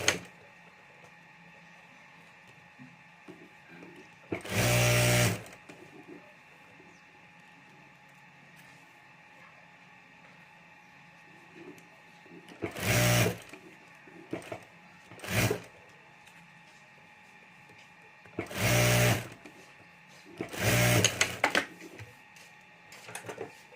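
A sewing machine stitching plastic laminate onto a fabric pencil pouch, running in several short separate bursts of fast mechanical whirring with quiet pauses between them.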